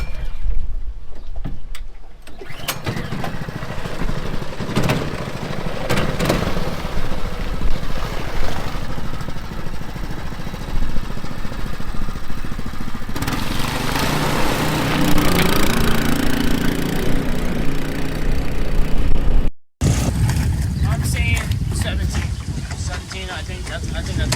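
A brand-new outboard motor runs on a mud skipper boat, droning steadily and loudly with wind buffeting the microphone; the engine note rises mid-way, cuts briefly near the end, then resumes, with voices speaking over it.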